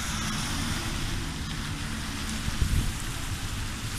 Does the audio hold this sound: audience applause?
no